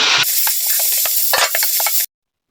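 Tomatoes sauté in oil in a pan for an aubergine and chickpea dish, a loud steady sizzle with scattered scraping stirs throughout, cutting off abruptly near the end.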